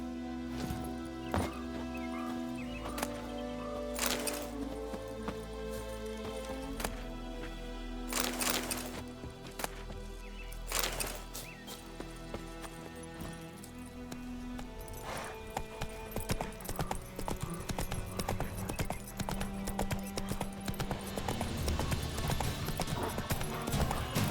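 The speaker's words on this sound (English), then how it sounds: "Whoa there, Roach" A horse's hooves clip-clop steadily in The Witcher 3 video game, a continuous rhythmic trot under a dense layer of game music and ambience.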